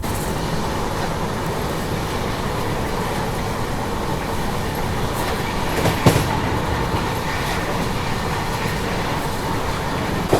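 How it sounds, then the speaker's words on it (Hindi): Inside the Kanyakumari Express at a sustained 130 km/h, a loud, steady roar of wheels and rushing air fills the coach, with one sharp clack near the middle and no voices. "तो 130 की स्पीड लगातार मेंटेन किए हुए है अपनी कन्याकुमारी एक्सप्रेस।"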